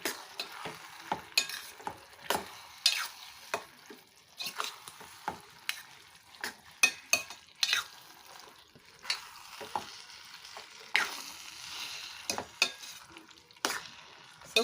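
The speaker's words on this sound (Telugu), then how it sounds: "ఇప్పుడు మనం ప్రాన్స్ అనేవి యాడ్ చేసుకుందాం బాగా వీటి మనం కలుపుకోవాలండి" Prawns frying in a pan for an egg and prawn curry, stirred with a utensil: steady close sizzle broken by frequent scraping strokes against the pan, with no voices.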